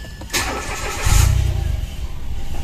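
A Mitsubishi Mirage hatchback, its wiring chewed through by rats and repaired, cranks briefly and then catches, settling into a steady close idle with no talk.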